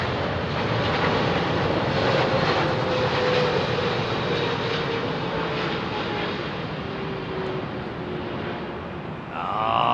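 An airliner touches down on Heathrow runway 27R, its loud, steady engine roar filling the whole span up close, with a rising whine near the end.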